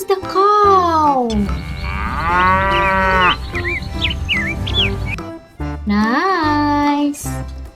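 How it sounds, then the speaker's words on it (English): A cartoon-style cow moos loudly and up close in a children's animal-finding game, one long wavering bellow with a second shorter moo after a brief pause, mixed with chirpy bird-like tones. "This is the cow."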